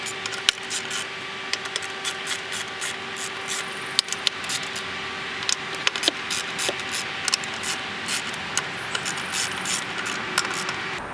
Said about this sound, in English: now I'm going to remove all 14 10mm bolts that go around the perimeter of the top of the intake manifold